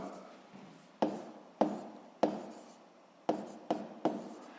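Chalk or a pen taps and strokes across a board while a physics formula is written out, landing in a string of sharp, evenly spaced strikes, each followed by a brief scratching trail.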